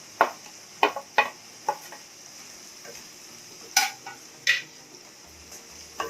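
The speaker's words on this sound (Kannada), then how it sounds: "ಇದಕ್ಕೆ ಇವಾಗ ಹೆಚ್ಕೊಂಡಿರುವಂತಹ ಟೊಮೊಟೊ ಹಾಕೊಳ್ತಾ ಇದ್ದೀನಿ" Chopped tomato going into brinjal that is cooking in a pan, giving several sharp, scattered clicks and knocks of a spoon against the pan over a faint steady sizzle, with no talk.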